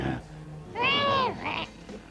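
A cartoon cat gives one loud, drawn-out meow up close, followed by a shorter squeaky cry, with a voice briefly heard beforehand.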